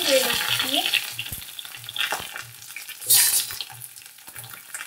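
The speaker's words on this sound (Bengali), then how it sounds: "তো এখন দেখো আমি এইভাবে লম্বা করে কাটা বেগুন দিয়ে দিচ্ছি।" Long-cut eggplant slices frying in mustard oil, a steady broadband sizzle with scattered stirring clicks and a louder burst of spitting oil partway through, close up and without talk.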